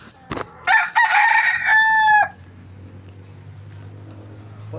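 A rooster crows once nearby, loud and drawn out, after a brief cluck, then a low steady hum fills the quiet that follows.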